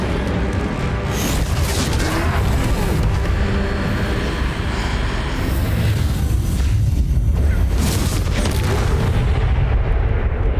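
A Confringo fire spell from Hogwarts Legacy erupts in heavy, rumbling explosive blasts amid dense battle noise during a troll fight, loud and sustained throughout.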